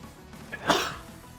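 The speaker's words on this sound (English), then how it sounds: "I'm about ready to sneeze." One short, sharp sneeze bursts out close to the microphone, a single explosive breath standing alone against quiet room tone.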